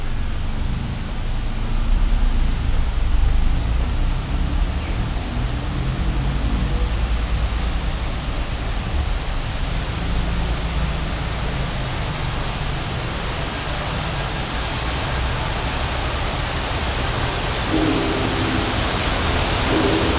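A steady, full rush of falling waterfall water roars evenly throughout, close and unbroken, with no voices, at a museum in Suphan Buri, Thailand.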